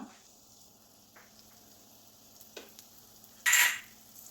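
Chopped green chili hits hot coconut oil in a pan: a few faint taps and scrapes, then a sudden loud burst of sizzling that flares for about a second and settles.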